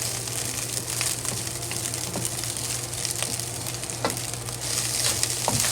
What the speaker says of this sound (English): Slowly fry. Don't let the rice stick to the bottom, and don't add too much oil.